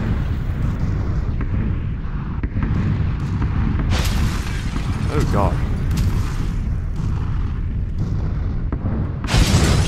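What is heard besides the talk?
explosions in video game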